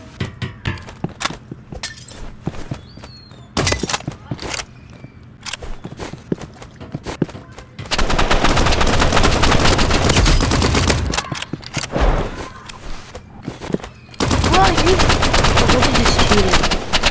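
Assault rifle fire in a shooting video game. Scattered single shots and clicks come first, followed by two long, loud bursts of rapid automatic gunfire.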